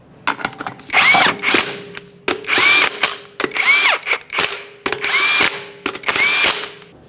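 Power tool snugging wheel lug nuts on a 2007-2013 Acura MDX, five loud close bursts of whirring and ratcheting, each about a second long, separated by brief pauses.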